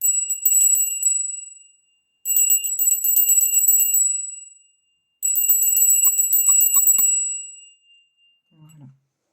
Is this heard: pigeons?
no